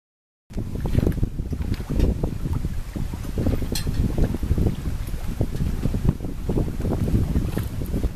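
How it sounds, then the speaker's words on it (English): Steady rushing of wind and water around a sailboat under sail on Long Island Sound, broad and continuous with buffeting gusts against the microphone. "We heave to at the end of the channel, raise sail, and set off into Long Island Sound."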